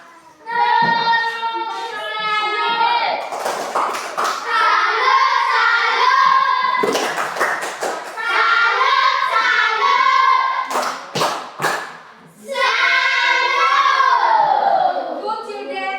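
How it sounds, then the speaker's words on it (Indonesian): Fifth-grade schoolchildren in a classroom give a rhythmic group clap for group 5, loud and close, mixed with a chorus of children's chanting voices throughout. "tepuk salut untuk kelompok 5"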